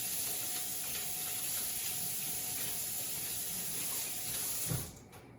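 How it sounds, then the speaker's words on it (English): Hands washed under a running kitchen tap while making lemon curd, a steady close rush of water that cuts off abruptly near the end. "Go ahead and wash my hands good so I handle eggs."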